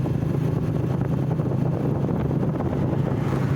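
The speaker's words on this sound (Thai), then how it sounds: "ขี่มอไซค์ฝ่าลมหนาวนะครับเจ็ดแปดองศา" Strong roaring wind buffets the microphone while riding a motorcycle through freezing 7 to 8 degree air in Sam Neua, northern Laos, a dense, continuous rush with no voices.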